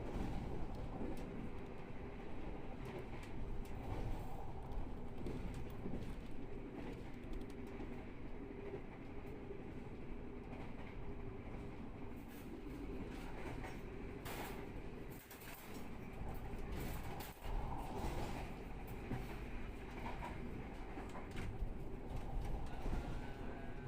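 The Blambangan Ekspres train runs on rails through Indonesian stations, a continuous loud rumble with rhythmic clickety-clack of wheels over rail joints, heard from inside the carriage, with no talking.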